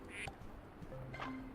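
Ducks in the Fields of Mistria farming game give a few short, soft quacks in quick succession, quiet against a low background.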